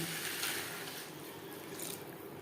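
Water pours into a pan of peas, potatoes and spices for vegetarian ghugni, making a soft, continuous splashing rush at low volume with no voices.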